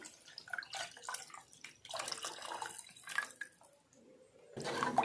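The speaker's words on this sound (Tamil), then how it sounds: "1 லிட்டர் தண்ணி சேர்த்துக்கலாம்." Water splashes and trickles into a cooking pot for chicken soup in uneven bursts, with a louder gush near the end, close by and without talk.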